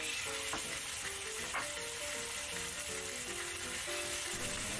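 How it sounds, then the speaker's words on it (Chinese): Pork chops fry in hot oil in a wok, giving a continuous crackling sizzle at moderate volume, with faint tonal clinks and no voices. "跟住咧，而家可以直接将啲猪扒咧煎熟佢嘅"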